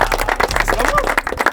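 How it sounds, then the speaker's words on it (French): Short burst of people clapping for a footballer named Jo who scored the most goals in a match, quick uneven hand claps close by with a lively, busy texture. "On peut applaudir Jo."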